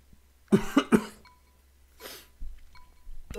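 Two or three quick, harsh throat-clearing bursts close to the mic, followed by softer breathy rasps and a faint click.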